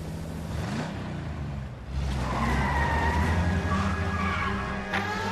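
Cars skid during an illegal street race in the video game L.A. Noire, including a red Ford, with loud engine roar, then long screeching tire squeals that hold over steady traffic noise.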